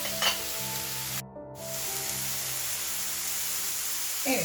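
Chicken and mushrooms sautéing on a sac pan, a steady close hiss of frying with a soft scrape of stirring near the start and end and a brief drop in the sizzle partway through.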